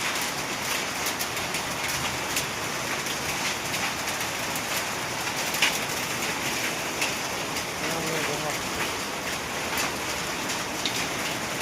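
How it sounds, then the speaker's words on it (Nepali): Hailstones and rain come down together in Bhutan, a continuous close hiss of drumming impacts with scattered sharper hits throughout; a faint voice may sit under the noise. "असिना पर्यो पानी पर्यो असिना पर्यो"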